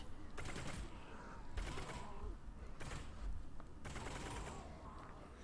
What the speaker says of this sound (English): I got a new machine gun.